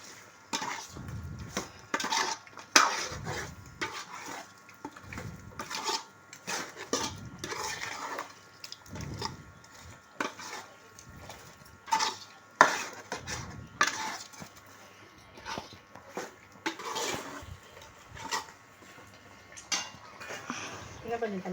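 A spoon scrapes and stirs chicken curry with masala powder, salt and a little water in a cooking pot, making repeated rhythmic clinks and scraping strokes against the metal, close and steady throughout.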